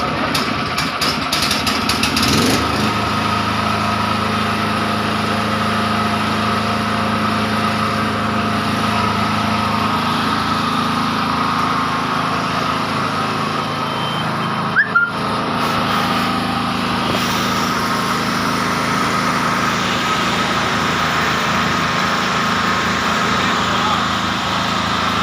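A 10 kVA POWERREKO XLNT portable generator engine runs with a steady, close mechanical drone and hum that holds level throughout, with a brief clunk partway through and a voice talking over it.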